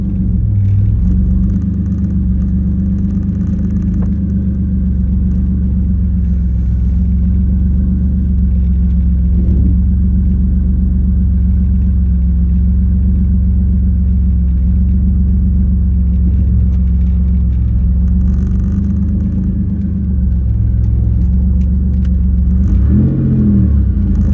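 An L67 supercharged V6 swapped into a 1987 Pontiac Fiero GT drones steadily while driving, a constant loud low rumble with slight rises in revs, heard from inside the car with no talking.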